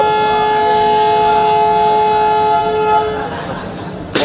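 Train at an Indian railway station sounding a loud, sustained multi-tone horn for about three seconds, then rumbling on with a sharp clatter at the end; no talk is audible.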